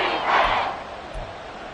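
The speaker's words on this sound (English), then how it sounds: "this crowd doing their best to make a lot of racket" A stadium crowd at a Falcons versus Colts football game roars in a broad, sustained wash of noise, swelling briefly and then easing off.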